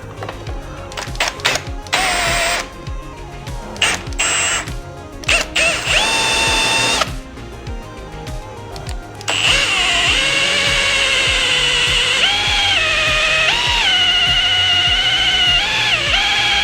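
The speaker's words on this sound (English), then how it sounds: "we're gonna try drilling these things, see what happens." A power drill whirs in short bursts, then grinds steadily as it bites into the metal frame of a Yamaha YFZ450R quad, its pitch wavering under load, loud and close.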